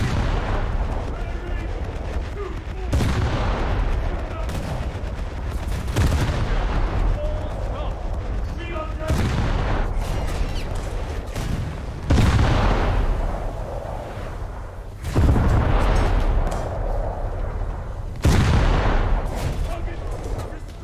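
Coastal gun batteries firing in World of Warships, booming heavy blasts spaced every few seconds with rumbling decay, over a steady background of naval combat noise and occasional talk.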